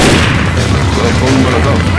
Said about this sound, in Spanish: ¡Marchando bomba!